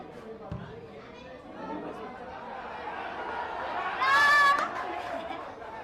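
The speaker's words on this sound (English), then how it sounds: "Now the home crowd on their feet" Home crowd at a Sahani Cup semi-final football match in Odisha rising to its feet, a sustained murmur of chatter and cheering with a louder swell of voices near the end.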